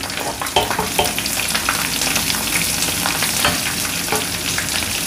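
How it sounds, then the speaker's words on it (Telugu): Mustard seeds, cumin and asafoetida fry in hot oil for a mango dal, a loud continuous sizzle with spattering crackles and a few stirring scrapes, with no voices. "కొంచెం ఆవాలు జీలకర్ర వేగాలి."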